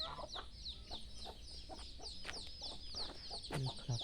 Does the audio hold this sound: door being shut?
no